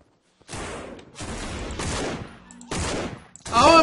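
Gunfire rattles in the zombie video game No More Room In Hell as several dense bursts of rapid shots with brief gaps between them. The shots are loud and close.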